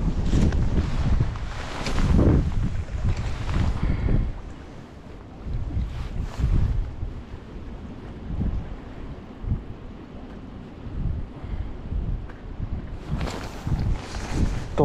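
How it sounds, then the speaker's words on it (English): Gusty wind buffets a fishing boat on Knife Lake in Mora, Minnesota, with loud rumbling bursts of wind noise that ease into a softer, steady rush before surging again near the end. "That's wind."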